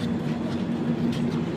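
A train moving on rails during a trip to Ajmer, with a steady rumbling drone and a constant low hum that hold at an even level throughout, and no voices.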